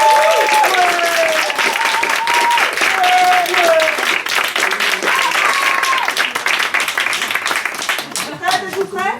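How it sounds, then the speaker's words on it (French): A crowd at an evening street show with a barrel organ player applauds, sustained clapping mixed with cheers and whistles, while a tonal instrument-like line runs through the first half and the applause thins near the end. "on applaudit Fred."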